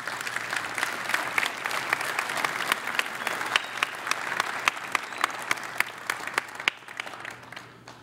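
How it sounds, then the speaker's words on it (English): Applause from a conference audience at a CES 2013 keynote, a steady burst of many hands clapping that fills the room and tapers off near the end, with no one speaking over it. "let's give those guys a round of applause."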